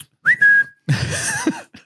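A person whistles live, nearby: a short rising whistle that holds a steady tone, then a longer, wavering whistled passage with some breath and background noise.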